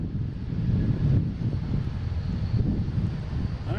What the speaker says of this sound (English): we got a JetBlue coming in here